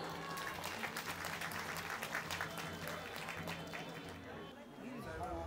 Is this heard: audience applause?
yes